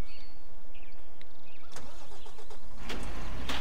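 A farm truck's engine cranks and catches near the end, a brief low rumble after a quiet stretch with a few clicks and rustles in a rural Belgian setting.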